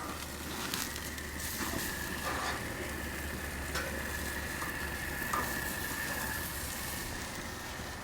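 Wagyu ribeye steaks sear over the hot broil zone of a grill, giving a steady, dense sizzle and crackle that holds at an even level throughout with no talk.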